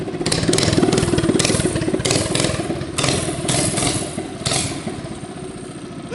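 A Bad-Dog 212cc hot rod engine running with an open clutch, loud and close, with a rough, throbbing idle, a metallic jingling rattle and short revs that rise and fall throughout.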